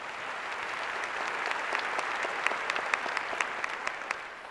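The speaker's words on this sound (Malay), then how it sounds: "Satu tepukan untuk hero itu dulu." Applause from an audience at a recognition meeting, a steady wash of many hands clapping with a few sharper individual claps standing out near the end, moderately close and without speech.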